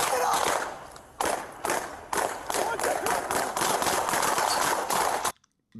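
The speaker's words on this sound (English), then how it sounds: "Do y'all hear all those gunshots for one person?" A rapid volley of many gunshots fired at a single person, dense cracks and bangs over several seconds, loud and chaotic before cutting out abruptly.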